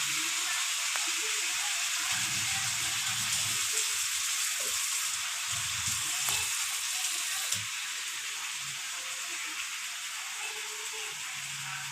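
A whole spiced chicken frying in a little oil, giving a continuous hissing sizzle with a few louder pops and low bubbling bursts, heard up close with no talking.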